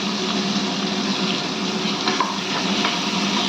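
Onion, tomato and ginger garlic paste sauté in hot oil, a steady close sizzle with soft stirring scrapes and occasional pops, continuous and fairly loud with no talking.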